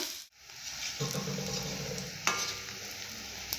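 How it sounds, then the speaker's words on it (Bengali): Banana fritters frying in hot oil make a steady close hiss, with a few clinks and stirring scrapes on top and one sharper knock midway. No one talks. "বাকিগুলো আরেকবার ভেজে নেব"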